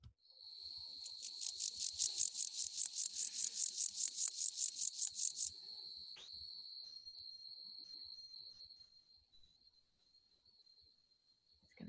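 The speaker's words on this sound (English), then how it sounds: "And let's listen to the grasshopper." A grasshopper stridulating by rubbing the pegs on its legs against a wing vein, heard as a close, fast series of rhythmic buzzing pulses over a steady high whine, then stopping and leaving a faint tone.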